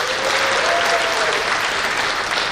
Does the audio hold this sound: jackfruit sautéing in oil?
no